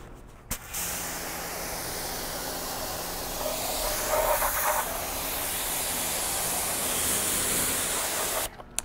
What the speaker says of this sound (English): So once you're done rinsing off the floor mat